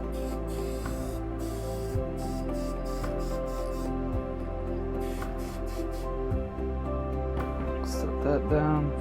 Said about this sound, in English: Now for the sides, I use a spray can of polyurethane.